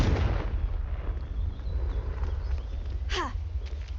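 A Confringo fire spell blasts in Hogwarts Legacy, a booming burst over a steady low rumble of battle noise, with a short whooshing streak near the end.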